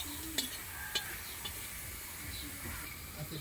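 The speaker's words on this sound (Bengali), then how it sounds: "এই যে একদম কাঠের চুলোতে রান্না হচ্ছে পনির, এদিকে চলছে আলু ভাজা" Potatoes fry over a wood-fired stove with a soft, constant sizzling hiss and a few faint clicks of stirring, low in level and somewhat distant.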